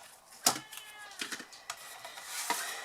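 A house cat meows a few times indoors, short faint calls scattered among light handling noises, fairly quiet and close.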